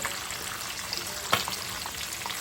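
A whole red snapper fries in hot oil, giving a steady, moderately loud crackling sizzle with a single sharper pop near the middle.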